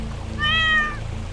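A cartoon cat caught in a trap gives a single short, clear meow, moderately loud against a low background hum.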